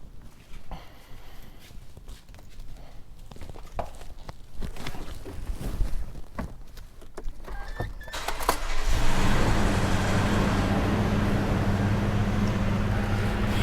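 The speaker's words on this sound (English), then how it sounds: "I'm gonna start the car and use the hydraulic suspension to put it in a higher position" A Lexus LX 570 sits in a garage. Scattered clicks, thumps and key jingles come first, then the engine cranks and starts about two-thirds in and holds a steady, moderately loud idle hum.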